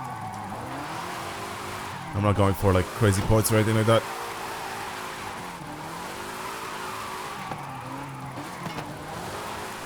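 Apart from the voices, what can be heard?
car drifting with tire squeal in video game Forza Horizon 5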